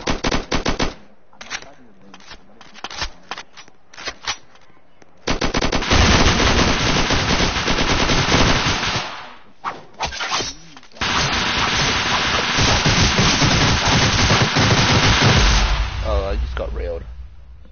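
Gunfire in a video game: scattered single shots at first, then long sustained bursts of rapid automatic fire that fill most of the stretch, loud and close, with a voice speaking briefly amid the shooting.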